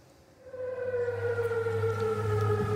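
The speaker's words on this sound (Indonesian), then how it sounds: "Sirine meraung di kota aman saat angkatan bersenjata Yordania mencegat serangan rudal Iran" An air raid siren starts up in a Jordanian city during interception of Iranian missiles and wails loudly, a sustained rising tone that holds with a slight wavering, heard alone without voices.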